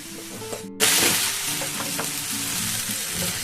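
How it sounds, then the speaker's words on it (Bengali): Chowmein fries in a pan with tomato sauce and soy sauce, breaking into a loud sizzle after a short pause, then holding a steady, dense frying hiss with light stirring. "আপনারা একটু টমেটো সস দিয়ে ভেজে নেবেন আর একটু সয়া সস দেবেন"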